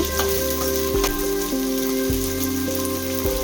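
Soaked, peeled field beans (avarekalu) fry in a pan with fried onions, giving a steady, dense sizzle throughout, alongside a tonal electronic hum with shifting pitches.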